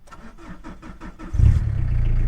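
A Peugeot 306 2.1 GTD turbo diesel engine cranks with rhythmic ticking, then fires and settles into a steady low rumble, close by.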